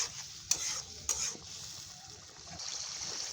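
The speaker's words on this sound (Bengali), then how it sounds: "স্বাদ মতো লবণ দিয়ে ভালো করে নেড়ে চেড়ে মশলাটাকে কষিয়ে নিতে হবে।" Spice paste with chili powder and salt stirred and fried in a pan for a prawn and taro-stolon dish: a soft, low sizzle with a couple of sharp stirring knocks early on, quiet and close, no voices.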